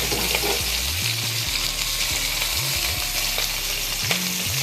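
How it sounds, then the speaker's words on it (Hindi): Small pieces of fish sizzle in hot oil in a pan for a home-cooked Indian fish curry, a constant crackling hiss with occasional low bumps as the pieces are stirred and turned. "बस इस तरीके से हमें इसे फ्राई करना है ना"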